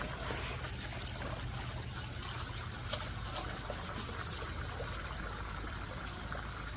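Water pours steadily into a barrel by a river, a continuous trickling, splashing flow that stays at an even level and fairly close throughout, with no talk.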